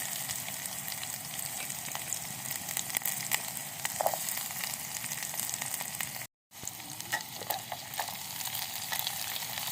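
Onion frying in oil on a rooftop terrace camp stove, a steady broadband sizzle crackling throughout with a brief dropout near the middle, no voices.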